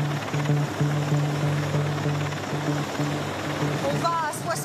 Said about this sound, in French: Le GIGN dans les airs avec les hélicoptères